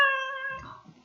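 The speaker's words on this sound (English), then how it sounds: "there's the cat." A cat meows once, a clear sustained harmonic cry that trails off into softer rustling and handling noise, close and unhappy-sounding, with no talking.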